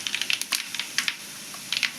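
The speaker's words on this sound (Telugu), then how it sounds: "పొట్లకాయ ముక్కలు వేసుకున్నాను." Ridge gourd pieces hit hot oil tempering in a pan, giving a close, crackling sizzle with sharp spits and pops in uneven bursts.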